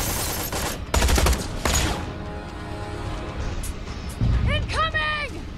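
Bursts of video-game gunfire in Tales from the Borderlands, a loud rattling volley early on with further shots, then a shrill whistling, warbling effect near the end, with speech present over parts of it.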